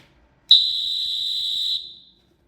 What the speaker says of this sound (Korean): 호루라기입니다.